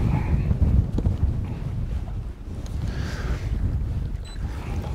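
Wind buffets a microphone on a small fishing boat out on the water, gusty low rumbling that rises and falls, with faint water movement beneath.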